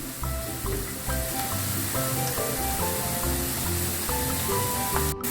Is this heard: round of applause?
no